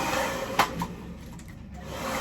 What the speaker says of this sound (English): the hairdryer I'm using is a Parlux